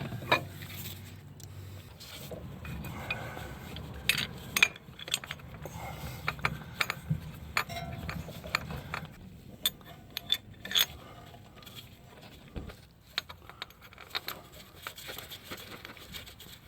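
Metallic ratcheting and wrench clicks while bolts are snugged down on the CV axle of a 2014-2020 Nissan Rogue AWD, quiet and close, with scattered sharp ticks and clinks over a low background hum.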